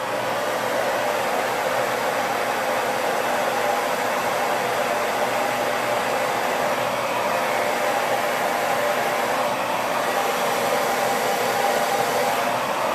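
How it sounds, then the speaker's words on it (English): A hair dryer fitted with a diffuser runs on a warm, low setting, giving an unbroken, even rushing hiss close by for the whole stretch with no voices. "I'm just going to start and turn my diffuser on, and I'm going to start diffusing"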